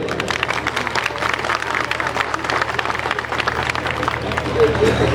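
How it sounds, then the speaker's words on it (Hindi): A large outdoor political rally crowd of MQM Pakistan supporters in Malir claps steadily and densely, with a constant murmur of crowd noise and a low hum underneath. "भाइयों के लिए फिर भाई ताली बजाए"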